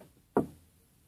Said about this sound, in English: I know I knocked just now.